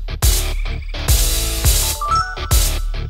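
A phone ringtone for an incoming call plays in a Telugu film trailer scene, sounding as loud, repeated tonal bursts at a steady rhythm with short gaps between rings.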